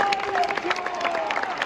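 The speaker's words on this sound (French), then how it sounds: "Les applaudissements pour Boulaïdia et pour Aïssa Mandi" Stadium crowd applauding as former Reims players Boulaïdia and Aïssa Mandi enter for a Reims versus Villarreal football match, a steady wash of clapping with some voices mixed in.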